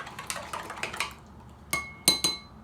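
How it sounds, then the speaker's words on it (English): Spoon clinking and scraping against the sides of a jug of carrot wine mixture, a quick run of bright metallic taps followed by a pause and a few louder, ringing clinks, close and alone. "I'm going to stir this back up real good"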